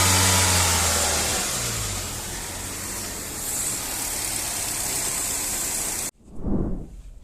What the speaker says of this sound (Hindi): अभी गाड़ी हमने रोड पे लाई है, अभी चला के देखते हैं